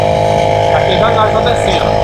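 Bicycle fitted with a brushcutter engine and CVT accelerating on a short hill, a loud, steady buzzing engine drone running throughout at close range.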